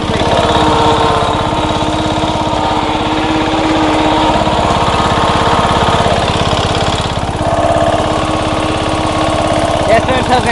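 A new offroad lawnmower engine runs steadily and loud at close range, a constant buzzing drone with no pauses, as a person talks faintly over it.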